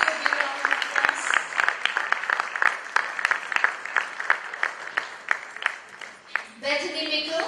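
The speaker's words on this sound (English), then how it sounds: "Please give a big round of applause." Audience applause for a dancer at a talent honors event, steady dense clapping from a crowd throughout, with a voice speaking over it near the end.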